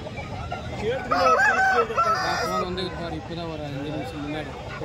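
A rooster crows at a busy poultry market, a long rising-and-falling call standing out near the front, with clucking fowl and a crowd of voices chattering underneath throughout.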